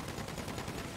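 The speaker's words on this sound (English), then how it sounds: "Why y'all shooting at me?" Gunfire in GTA 5 roleplay: a rapid, dense burst of overlapping shots, fairly faint and distant-sounding, with no voices.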